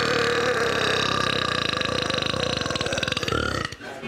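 A loud, sustained record-breaking burp rumbles for several seconds with a strong buzzing throat tone before cutting off abruptly near the end.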